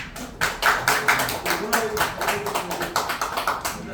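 An audience at a graduation ceremony claps for a National Assembly member, giving a moderate round of hand claps with a loose, uneven rhythm, while a voice speaks over part of it.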